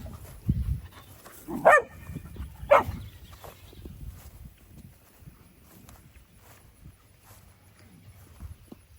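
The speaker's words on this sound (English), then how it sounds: "she'll be barking at them because that's what she likes to do." A farm dog barks twice at goats, short sharp barks about a second apart, at moderate distance amid quiet outdoor background noise.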